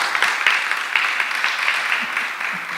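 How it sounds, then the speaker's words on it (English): Audience applause for Dr. McLean at a community talk on trauma, a steady wash of many hands clapping at moderate loudness, with a few faint voices mixed in over nearly three seconds. "let's give him a round of applause"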